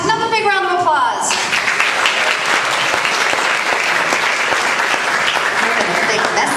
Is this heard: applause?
yes